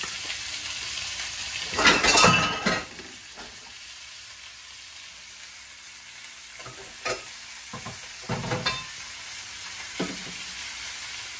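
Shrimp hit a pan of hot butter and garlic and sizzle steadily, with louder bursts of frying and stirring clatter early on and a few later scrapes and knocks of utensils, with no talking.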